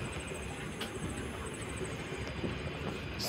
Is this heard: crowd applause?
no